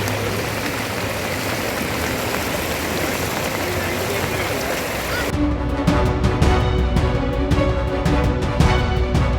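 Heavy rain pours down in a steady, dense hiss and then becomes louder, with sharper, closer pattering on a surface.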